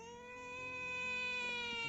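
A person imitating a cat, drawing out one long, whiny meow-like vocal tone close up with no other sound around it.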